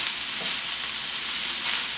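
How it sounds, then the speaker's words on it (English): Cabbage and ground turkey stir-frying in a pan, a loud, steady, bright sizzle that hardly changes, with a faint stir partway through and no voices. "So I'm going to stir this real good."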